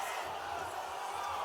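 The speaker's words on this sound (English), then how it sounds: "Woke this crowd up, no doubt about it, early in round number 4" A fight crowd roars and cheers after vicious punches in a women's bout, a dense wash of voices filling the short moment.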